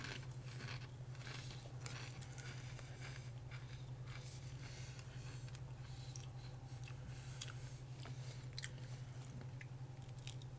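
Thick, sturdy wavy applewood smoked cheddar Pringles chips being chewed close up, a steady stream of crunches and bites with no talking over them.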